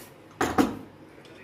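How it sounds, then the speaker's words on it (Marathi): A metal lid is set onto a pressure cooker pot in a kitchen, two quick clanks close together, followed by quiet and a faint clink at the end. "तर झाकण लावते मी. आता हे आपण गॅसवर ठेवू."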